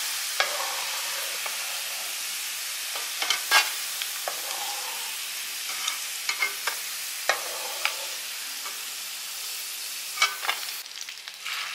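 Oil sizzles and crackles steadily in a pan as garlic fries, with sharp pops and occasional scraping stirs over the frying.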